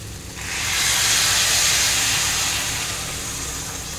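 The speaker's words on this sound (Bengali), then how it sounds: "এবার আমি কাজু কিশমিশ বেড়েছিলাম সেই জলটা এতে দিয়ে দেবো, মিক্সি ধোয়া জলটা।" Blender rinse water carrying leftover cashew and raisin paste hits a hot pan of mutton-style jackfruit dum curry, letting out a sudden loud hiss of steam that swells, holds for a few seconds, then slowly eases.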